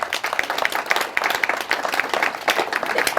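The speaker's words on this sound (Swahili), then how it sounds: "Waacheni tupigie hawa watoto makofi mazuri." A gathering claps warmly for standing children, fairly close and lively, with distinct individual claps standing out in a steady, uneven rhythm throughout.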